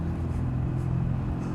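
A 1961 BSA A10 Golden Flash motorcycle engine runs steadily on a ride, a continuous low rumbling drone with wind noise, loud and unbroken throughout.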